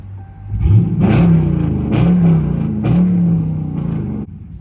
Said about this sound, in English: Give y'all a couple revs from inside of the car